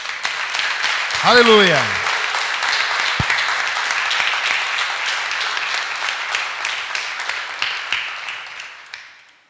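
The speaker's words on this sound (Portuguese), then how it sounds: "Vamos aplaudir a Ele?" A congregation at a church service applauds in a loud, sustained wave of clapping that slowly fades, with a single shouted exclamation near the start.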